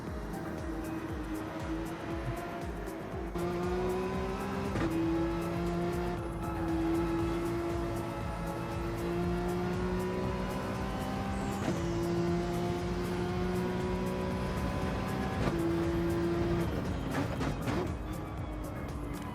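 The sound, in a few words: onboard Porsche Cup race car lapping circuit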